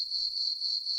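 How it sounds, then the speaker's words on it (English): Crickets chirp as a sound effect, a steady high-pitched trill that holds evenly through the moment. "This is what we heard around this motherfucker."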